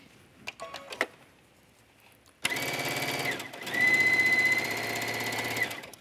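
Sewing machine running a straight stitch on a leggings pocket, starting abruptly after a few light clicks and humming steadily and loudly for about three and a half seconds with a slight pitch rise midway, no talking.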